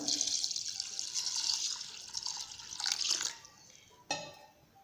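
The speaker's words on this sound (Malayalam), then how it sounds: "അതിലോട്ടേക്ക് നമുക്ക് ആവശ്യത്തിനുള്ള വെള്ളം ഒഴിച്ചു കൊടുക്കാം." Water poured from above onto washed raw rice in a bowl, a close steady splashing stream that fades out, followed by a short clatter and a few drips.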